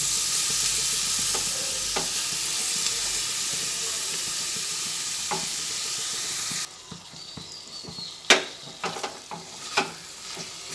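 Chicken ghugni made with breast meat is stirred in a pan over a low gas flame, a steady sizzle and hiss with scraping strokes, then quieter with a few sharper clinks toward the end.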